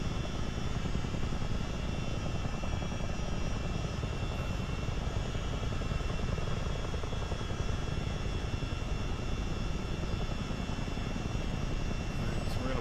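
A CH-47D Chinook twin-rotor helicopter in a flight simulator game circles wide and comes in to land on a runway, its engine and rotor noise a steady, dense roar that stays even and loud throughout with no pauses.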